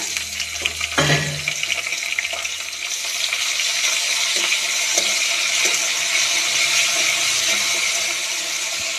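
Chopped tomatoes and chillies sizzle steadily as they are stir-fried in a pan for upma, with a sharp clank of a utensil early on and light scraping taps over the continuous, close frying hiss.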